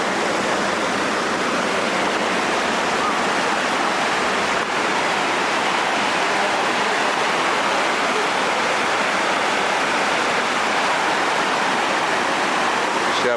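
Waterfall at Benta River Falls in Westmoreland, a steady, dense roar of falling water that stays loud and constant throughout, with faint voices buried underneath.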